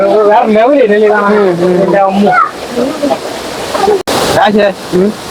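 Palaruvi waterfall in the Kollam forest range, a continuous rushing roar of water sitting beneath a man's loud, close talking throughout.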